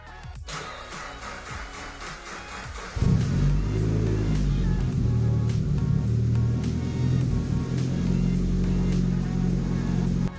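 A Nissan Pulsar GTI-R engine cranks briefly on its first start after restoration, catches and settles into a steady, rumbling idle close by.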